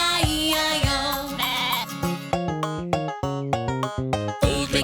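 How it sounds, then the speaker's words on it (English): Toy sheep bleats in a children's nursery-rhyme farm song, a strong, repeated baa sung and played over bright musical accompaniment, loud and close throughout. "And on this farm he had a sheep"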